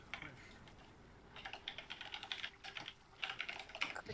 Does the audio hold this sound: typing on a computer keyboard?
yes